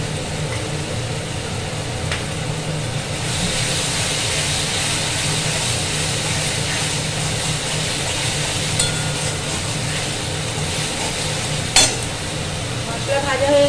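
Spices frying in oil in a pan for ghugni, a steady broadband sizzle with stirring throughout and a faint clink of utensil near the end.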